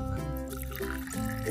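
Lukewarm water poured into an empty glass, a short continuous trickle and splash lasting under two seconds, fairly quiet with no talking.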